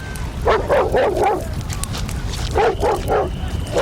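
A dog barks in two rapid volleys of several sharp, harsh barks each, with a short pause between, over steady background noise.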